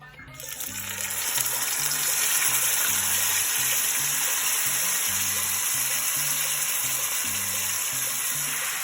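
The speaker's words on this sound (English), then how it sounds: "So we're just going to add the meat and get a really nice sear on the top." Meat searing in a very hot, smoking pan of oil for ropa vieja, a loud, steady close sizzle and crackle throughout, over a low repeating music beat, with no one talking.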